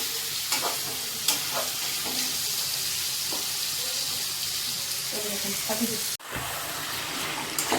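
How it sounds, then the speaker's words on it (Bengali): Chicken curry meat being stir-fried in a pan, a steady loud sizzle with scraping stirs of the spoon throughout and a brief break near the end, with faint voices underneath. "দেখেন মাংসটা কষতেছি আমরা বন্ধুরা, কষে তারপরে ঝোলের জল দেবো।"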